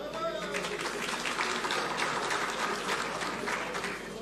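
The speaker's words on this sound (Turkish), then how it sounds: "Bu alkış yeterli değil yalnız." Crowd applause at the opening of the Mesopotamia Agriculture Fair, a steady wash of many hands clapping at an even level throughout, with crowd noise mixed in.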